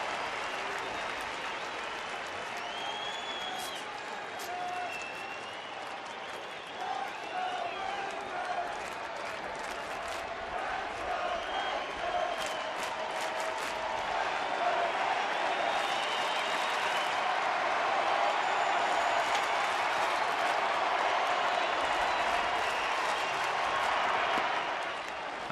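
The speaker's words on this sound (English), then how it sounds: "The crowd amps up the energy and enthusiasm." Baseball stadium crowd at a Seattle at Texas night game applauding and cheering in a dense, steady roar of clapping and shouts that swells slightly toward the end, loud and sustained throughout.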